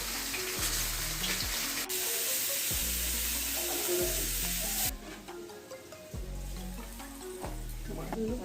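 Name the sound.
cumin seeds sizzling in hot oil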